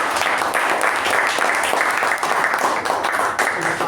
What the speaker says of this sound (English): a special thunderous round of applause